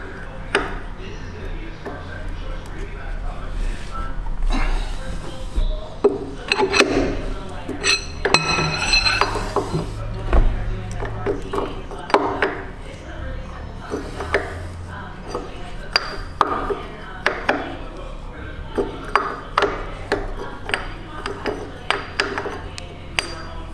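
Metallic clinks, taps and ringing knocks from wrench work on a nut on the hydraulic hold-down of a Cincinnati 12 ft shear, greasy and oily, sounding as repeated close sharp strikes with talk in between.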